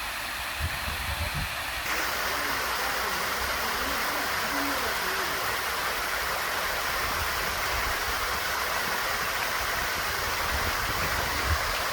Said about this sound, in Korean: 이 물소리만 들어도 힐링되지 않습니까?